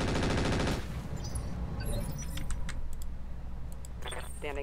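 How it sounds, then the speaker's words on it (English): Machine guns firing in Roguetech, a rapid rattling burst up front followed by scattered metallic clatter, clicks and impacts, fairly close and moderately loud. "Might as well use those one set of machine guns."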